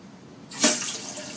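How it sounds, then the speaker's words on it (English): Water rushes back on at a toilet supply valve: a sudden broadband hiss surges in, peaks briefly, then settles into a steady fill. "So we're going to turn on the water right now"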